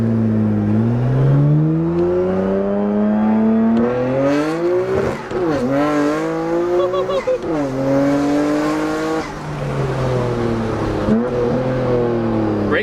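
Race-modified Nissan Skyline GT-R engine revving hard through rising pitch sweeps, accelerating with gear changes, loud and close from inside the car, with occupants talking over it.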